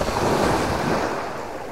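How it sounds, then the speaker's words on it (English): Mediterranean sea waves wash onto a Spanish shore at sunrise, a steady loud broadband surf roar with wind buffeting the microphone, continuous and alone without any talk. "The biggest problem is going to be the waves taking my line away"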